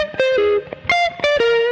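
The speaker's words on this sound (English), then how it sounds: "And then some spring reverb." Lead guitar played through spring reverb, with distorted single notes and short bends that ring into a light, springy tail across a brief phrase.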